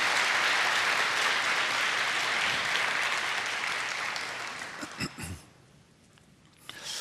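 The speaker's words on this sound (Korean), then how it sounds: "우리 나오실 때 한번 뜨거운 박수로 한번 격려합시다." A church congregation claps warmly to welcome a visiting missionary, loud sustained applause that tapers off after about five seconds into a few scattered claps and quiet.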